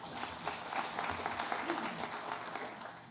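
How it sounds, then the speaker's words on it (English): Audience clapping at a respiratory therapy pinning ceremony, a soft, somewhat distant patter of hands that rises and falls slightly but continues throughout, with faint murmuring beneath. "we'll go ahead and clap it up for her"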